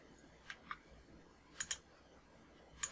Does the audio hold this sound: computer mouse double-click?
yes